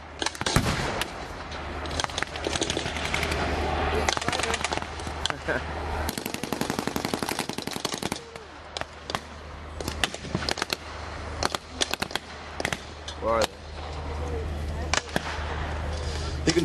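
Machine gun fire at a World War Two reenactment at Hop Farm, England, pounds out loud, close bursts of rapid shots separated by brief pauses, with single cracks scattered throughout.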